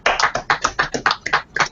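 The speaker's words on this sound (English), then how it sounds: "I'm gonna quickly just give you a quick round of applause" One person claps hands in a quick, steady burst of about eight close, sharp claps, with no talking.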